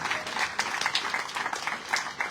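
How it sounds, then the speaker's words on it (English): A crowd at an outdoor neighborhood block party applauds in a lively burst of dense clapping with uneven peaks, close and fairly loud. "let's give him a round of applause"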